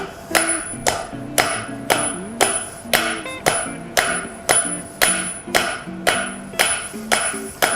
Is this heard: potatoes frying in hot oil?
no